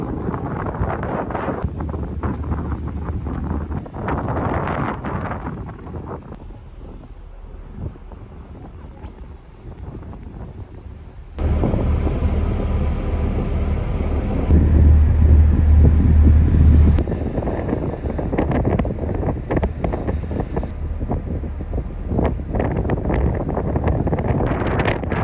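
Wind blows hard across the open deck of a ferry crossing the Arctic Circle in Norway, a continuous roar buffeting the microphone that drops back and then surges louder, with a low engine rumble beneath.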